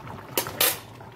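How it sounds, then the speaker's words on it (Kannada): A pressure cooker lid is set down and closed over boiling tomato bath, giving two short metallic clanks close by with quiet kitchen hiss between them. "ಇವಾಗ ಲಿಡ್ ಕ್ಲೋಸ್ ಮಾಡ್ತೀನಿ"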